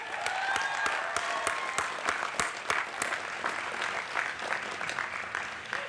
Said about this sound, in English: Please, a round of applause for them too.